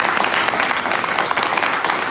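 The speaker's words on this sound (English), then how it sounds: "Let's give a big round of applause for our panel." A founders' event audience gives the panel a round of applause, a thick, continuous clatter of many hands at close range and steady loudness for a couple of seconds.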